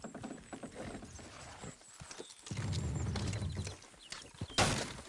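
Horse hooves clip-clop in Red Dead Redemption 2, a steady rhythmic trot of close, distinct hoofbeats with occasional louder thumps and a faint whinny, alone without talk.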